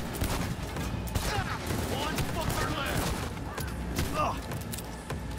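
Rapid gunfire in Cyberpunk 2077: dense bursts of shots and impacts run continuously at steady loudness, layered with game sound effects and some talk.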